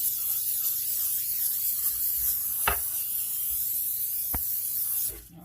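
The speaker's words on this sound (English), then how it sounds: "I'm going to spray this down with a little bit of spray." Cooking spray hisses onto a pan in a home kitchen while making caramel popcorn with salted peanuts, a continuous close aerosol spray with a couple of brief clicks and a knock at the end.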